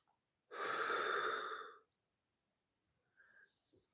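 A long, forceful exhale during a seated stretch in a senior fitness routine, lasting over a second, followed by a softer, quieter breath.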